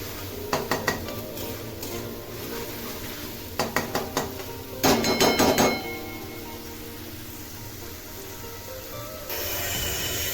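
Masala paste frying in oil in a pan for a Malvani soybean dish, stirred with a spoon that clinks against the metal in quick rattling bursts, over a soft continuous sizzle.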